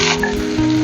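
Chopped ivy gourd hitting hot oil in a pan gives a short, loud, steady sizzle with faint metallic scraping, no voices.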